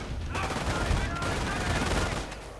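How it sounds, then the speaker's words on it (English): Automatic fire from an LMG 42 in a strategy video game rattles in a dense, continuous burst of rapid shots lasting a few seconds, loud and close, with a faint voice under it. "all that automatic fire scares them off"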